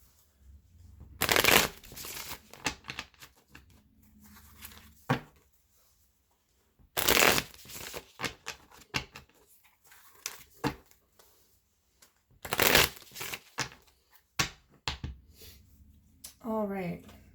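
Gilded Tarot cards shuffled in several quick riffling bursts, close and crisp, separated by pauses with a voice speaking between them.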